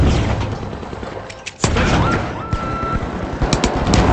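Frag grenade exploding in the video game The Finals, a sharp loud boom midway through amid ongoing gunfire, electronic beeps and game sounds.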